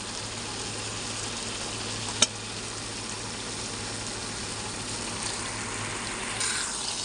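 Chicken pieces dropped into hot masala in a pan give a steady, even sizzle and frying hiss from start to finish, with one sharp click partway through and faint stirring scrapes toward the end.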